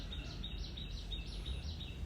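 Birds chirp among trees whose leaves have partly fallen, a quick run of small high chirps repeating over a soft, steady background hush, faint and somewhat distant.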